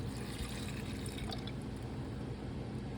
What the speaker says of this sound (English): I'm using chicken broth, a 1/3 cup, and you just add it right in here.